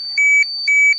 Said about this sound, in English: that beeping that you can hear indicates that there's gamma rays coming from this Ferris wheel